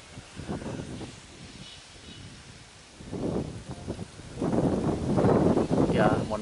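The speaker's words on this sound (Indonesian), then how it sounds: "mohon maaf goyang-goyang karena anginnya kencang ini ya" Strong gusty wind buffets the microphone on the slope of Mount Merapi, near fire-scorched forest, coming in loud rumbling surges that build toward the end while someone talks through it.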